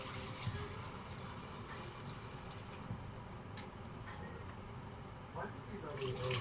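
Water streams steadily from a tap into a pot of vegetable stock, a continuous hissing splash that runs for several seconds and briefly eases before picking up again.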